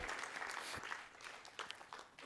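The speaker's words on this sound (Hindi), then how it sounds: "एक बार तालियां नरेश सांडिल्य जी के लिए होनी चाहिए" Applause from an audience at a memorial lecture and book launch event, a short stretch of dense clapping heard faintly and from a distance, steady without any pauses.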